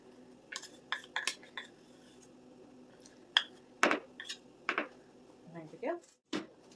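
Peanut butter being scraped into a mixing bowl for Thanksgiving cookie baking: a scattered run of short, faint clinks and scrapes of utensil against bowl, with a voice in between.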